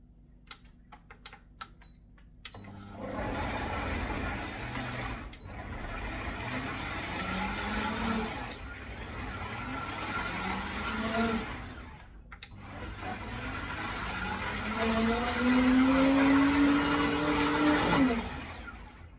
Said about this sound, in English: I'm going to blend it up here on my big powerful blender. It's going to make a noise.